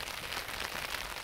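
Steady rain falling in Japan in the early morning, a dense, even hiss of drops on surfaces, close and continuous with no voices.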